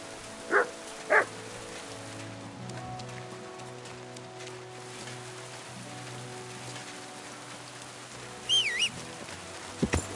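A dog in Kingdom Come Deliverance 2 gives two short barks, then a few more near the end, set against a steady patter of rain.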